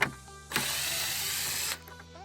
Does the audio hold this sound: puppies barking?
no